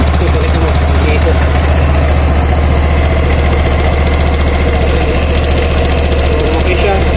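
Honda PCX scooter engine with a newly installed aftermarket crankcase cover, idling steadily and loudly up close with a constant low rumble throughout and no obvious revving.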